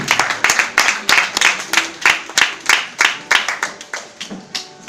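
Congregation in a church service clapping hands in a steady, rhythmic beat, loud and close, a dense crowd of claps with no talking.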